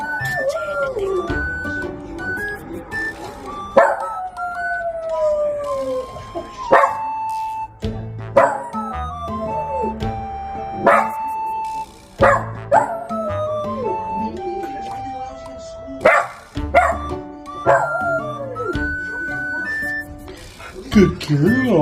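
A pet dog howls along with passing sirens, its long rising and falling wails repeating in phrases, loud and close, while a person talks over parts of it.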